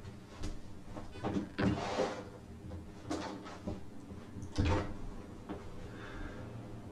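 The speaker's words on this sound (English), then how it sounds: "I should close this door." An indoor door is pushed shut, with several soft knocks and shuffles followed by a firmer thud near the end, heard fairly close in a quiet room.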